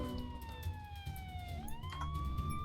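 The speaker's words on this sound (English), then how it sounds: "I hate that there's a constant siren" A steady electronic siren wails continuously in the video game Troubleshooter: Abandoned Children, its pitch sliding slowly down and then stepping back up, with a busy low rumble of background noise beneath it.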